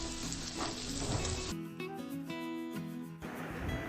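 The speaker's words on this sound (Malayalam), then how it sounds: "മുളക് പൊടി ഇട്ട് കൊടുത്തിട്ട് നല്ല രീതിയിൽ ഇളക്കിയെടുക്കണം" Sliced onions with chili powder sizzle in hot oil as they are stirred, producing a loud continuous frying hiss close by that dips briefly in the middle, with no talking.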